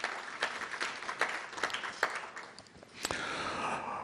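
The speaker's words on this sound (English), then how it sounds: "let's give the Maxine and Jack Zero Family Foundation a round of applause at this time for that wonderful contribution" An audience applauding at a writers award ceremony, steady clapping from a crowd in a hall, moderately loud and continuous for several seconds with no talk over it.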